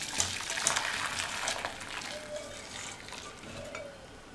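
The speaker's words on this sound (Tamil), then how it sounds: "இப்போ இதை வடிகட்டிடலாம்." Hot water and boiled cauliflower poured off into a strainer in a home kitchen: a steady, close, hissing splash of draining liquid that runs for about four seconds and eases slightly toward the end.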